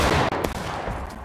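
A musket volley fired by a line of soldiers in the Civil War game War of Rights, heard as a loud, sustained roar of overlapping shots filling the whole moment, close and dense.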